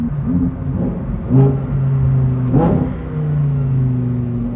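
A Lamborghini Huracán STO engine hums and revs up and down in steady mid-pitched tones, loud and close, with rumbling exhaust.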